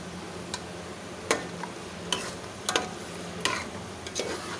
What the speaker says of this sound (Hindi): अब इनको हमने सब मसालों के साथ गोश्त और आलू को अच्छी तरह से भून लेना है।